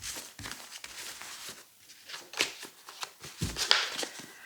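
Tarot cards are shuffled and drawn by hand, giving a run of quick papery riffles and soft slaps in irregular bursts, close and fairly quiet, with no voices.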